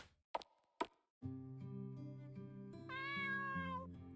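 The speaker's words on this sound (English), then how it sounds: "that just a cat?" A cat meows in a faint, drawn-out, tonal call after two sharp knocks, with the sound shifting higher partway through before fading.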